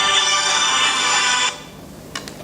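A mobile phone ringtone goes off during a press meeting at an education fair, a bright electronic melody sounding steadily for about a second and a half before cutting off abruptly, followed by a couple of faint clicks.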